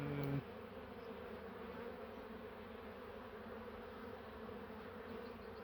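A honeybee colony hums steadily and moderately loud throughout an open-hive inspection in spring, with a brief tonal sound at the start and a continuous dense buzz with no talking.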